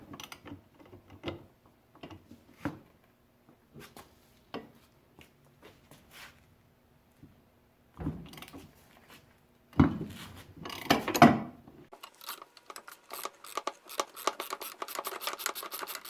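A 7/8 socket wrench working the pinion nut on the lower unit of a Johnson/Evinrude V4 outboard, sparse metallic clicks and knocks that build into louder ratcheting and clanks, close up with no talk.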